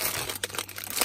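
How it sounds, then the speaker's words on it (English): A plastic bag holding the first aid kit of a Mercedes C-Class crinkles and rustles close by in a continuous irregular crackle, with no speech. "it's actually in a bag, like it's in a nice plastic bag"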